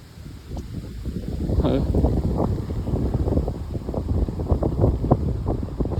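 Strong wind gusts batter the microphone during a severe thunderstorm, a rough low roar that builds after the first second and surges in uneven bursts, alone with no voices.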